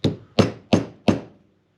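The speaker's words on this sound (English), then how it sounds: "get this tapped in there" Four evenly spaced, sharp hammer taps drive a wooden dowel into a small handmade whistle at a workbench, each strike close and loud with a short ringing decay.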